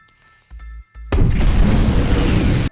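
A loud, close explosion from a monster film erupts after a second of quiet low rumbling and sustains as a heavy, roaring blast with debris-like crackle to the end.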